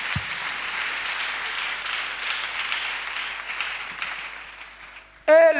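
Congregation applauding at a Friday prayer night in Abidjan, a steady wash of many hands clapping for several seconds, fading slightly before a sudden louder burst at the very end.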